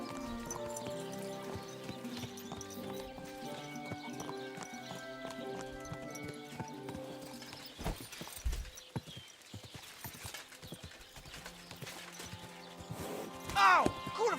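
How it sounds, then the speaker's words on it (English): Horse hooves clip-clop in a steady trotting rhythm under music, with a whinny toward the end. "Get that horse!"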